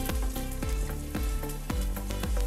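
Onion and tomato frying in a pan with turmeric and salt, a steady close sizzle punctuated by rhythmic scraping strokes of a spatula, with no voices.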